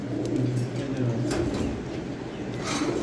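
Several loft pigeons, including silver birds, coo in a low continuous murmur, with brief sharper clicks and rustles and someone talking over them.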